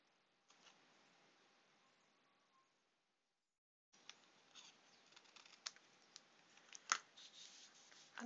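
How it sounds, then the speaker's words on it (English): Scissors cut straight through card up to a score line while making a hexagonal shaker box, heard as faint, quiet snips and clicks that start after a brief silence. "I'm just going to cut them up to the score line"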